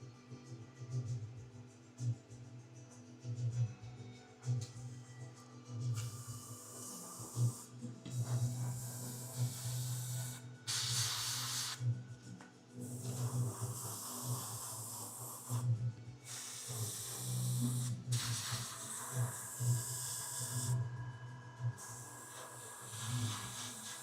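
Airbrush spraying paint onto a miniature in repeated short hissing bursts over a constant low hum, close and fairly quiet, with brief pauses between sprays.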